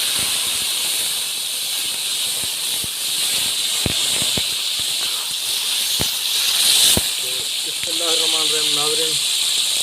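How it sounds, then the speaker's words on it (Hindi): Chicken for achari gosht hits hot ghee in a village kitchen and sizzles with a steady, loud hiss, dotted with sharp crackles and pops; a voice speaks briefly near the end. "घी जैसा कि गर्म हो चुका है तो इसके अंदर हम गोश्त"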